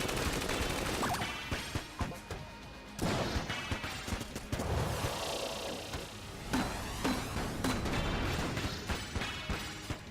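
Rapid bursts of M16 gunfire in the video game Enter the Gungeon, with dense, loud shots, crashes and impacts layered over game music in a busy, continuous barrage.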